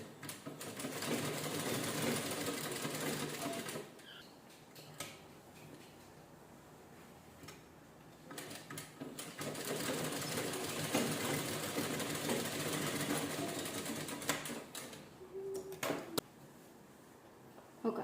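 Sewing machine stitching a canvas strip onto the front neckline of a princess-cut blouse, running in two long steady bursts with a brief pause between and short stops near the end, close and alone.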